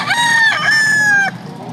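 A Golden Boy crossed with Boston rooster crows once, loud and close: a single drawn-out cock-a-doodle-doo lasting about a second, followed by quiet background, with no talking.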